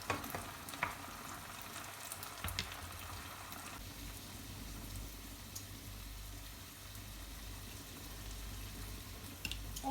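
An onion and tomato sauce base for spaghetti alla puttanesca frying in a pan, a quiet steady sizzle with occasional stirring scrapes and clicks, close but faint, with no voices.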